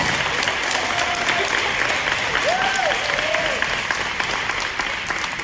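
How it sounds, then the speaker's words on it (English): A luncheon audience applauds the standing parents at a women's scholarship event, a steady wash of clapping lasting the full stretch, with a brief voice or whoop rising over it midway. "Let's give them a round of applause."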